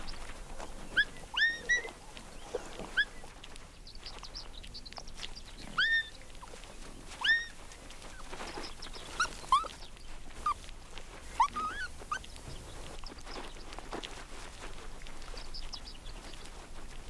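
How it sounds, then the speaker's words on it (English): Jackal pups in their den let out a string of high, thin whimpers and whines, coming in short bursts with pauses between, fairly close against a quiet outdoor background. "3 pups are waiting to be fed."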